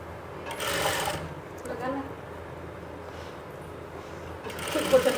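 A sewing machine stitches lace and piping onto a garment neckline, running in short bursts of rapid whirring separated by pauses, close and moderately loud.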